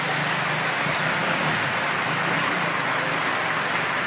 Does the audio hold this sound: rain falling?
yes